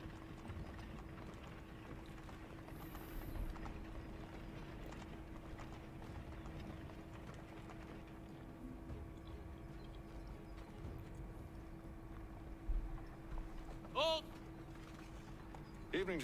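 Horses' hooves clip-clopping in the video game Assassin's Creed 3, a faint steady rhythm of hoofbeats under a low hum and background ambience, with a few brief louder sounds near the end.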